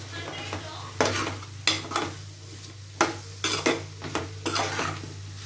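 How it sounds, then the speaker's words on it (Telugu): A spoon stirs an ivy gourd and tomato curry in a pan, with repeated scraping, clinking strokes about once a second over a steady low sizzle, close up and alone. "పట్టిలాగా కలుపుకోండి ఇలా అన్నీ కలిసిన తర్వాత"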